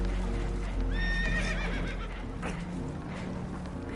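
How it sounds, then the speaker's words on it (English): Spooked horses in Red Dead Redemption II, aboard a damaged boat, let out a sharp rising whinny over a steady low background rumble, with faint hoof clatter and movement. "Horses are spooked"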